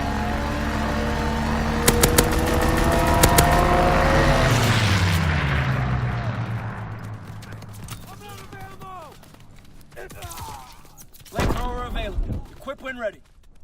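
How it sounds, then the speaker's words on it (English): A fighter plane roars in close and loud on a strafing run in the World War II shooter Call of Duty WWII, with rapid bursts of gunfire, then fades away as other noises and clipped voices follow. "Fighter pilot inbound. Strafing the target."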